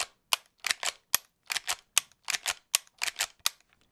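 Rapid shots from a .357 Magnum lever-action rifle, a quick series of about a dozen sharp cracks in small clusters, loud and close with short silences between, no voices.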